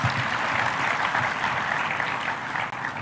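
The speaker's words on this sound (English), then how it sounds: "Please clap for that boy." Audience at a centenary event at Jamhuri High School clapping steadily for a boy who gave a speech, a dense continuous wash of applause throughout with no pauses.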